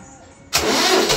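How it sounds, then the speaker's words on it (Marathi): A Marshal tractor's engine cranks and catches abruptly after a quiet moment, bursting into a loud, close, rough running roar. "आता चालू करणार ट्रॅक्टर"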